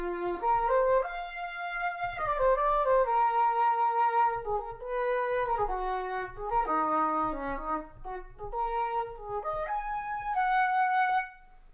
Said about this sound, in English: just a solo English horn here